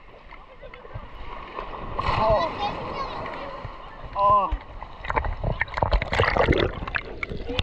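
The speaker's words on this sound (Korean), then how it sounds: "파도가 장난 아니야" Ocean waves wash and splash at a beach on Nusa Penida, Bali, in loud, gurgling surges, and people talk and exclaim over the water.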